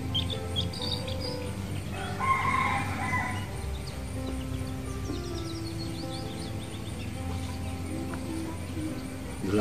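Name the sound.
chicken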